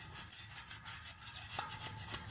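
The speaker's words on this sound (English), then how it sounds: "what I'm doing is using a scraper" A hand scraper drags across a wrought iron gate, peeling off flaking paint over rust in steady back-and-forth strokes, close and moderately loud, with one brief tonal squeak partway through.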